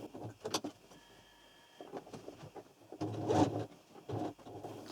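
A sewing machine stitches the wedge panels of a beret, running in a few short separate bursts with quiet handling pauses between them, with no talking.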